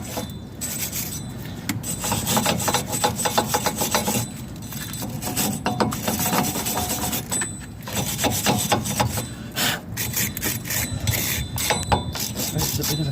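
Rust is scrubbed off a Land Rover Freelander 1 brake disc, a loud, close, continuous rasping in repeated back-and-forth strokes with brief pauses.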